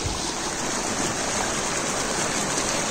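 Stream water flowing at Shikhar Fall, a hidden waterfall near Rispan in Dehradun, a dense, steady rushing hiss that stays close and loud for the whole stretch with no talk.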